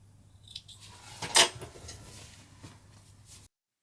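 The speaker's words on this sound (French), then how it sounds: "Et on n'a plus qu'à couper nos petits fils." A crisp scissor snip cuts sewing threads on a finished fabric half-moon bag, one sharp close cut amid faint handling rustles and low hum.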